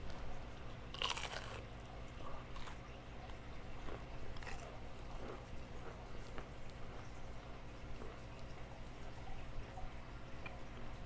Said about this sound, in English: this one is really crunchy